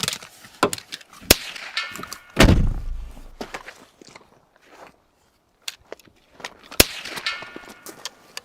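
Gunshots from a fired gun: several sharp, loud cracks spaced irregularly, one followed by a booming low rumble, with clanks and handling noises in between.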